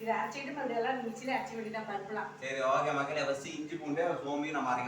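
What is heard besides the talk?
None of the usual background noises is heard.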